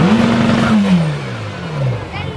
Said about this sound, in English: They have made the Chiron Super Sport so much louder than the standard Chiron.